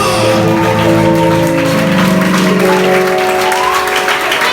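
A church congregation applauds loudly and continuously during a sermon, a dense close wash of clapping with faint voices and a sustained organ or keyboard tone underneath.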